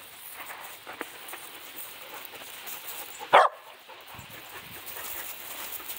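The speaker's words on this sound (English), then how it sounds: "she's just sitting and barking while other dogs are playing" A female dog sits and barks while other dogs play during morning playtime, giving one sharp, loud bark over quiet outdoor background noise.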